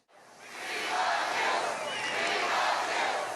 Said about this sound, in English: The crowd in a cavernous airport hangar showed their support for the president with chants of "We love you" and cheers.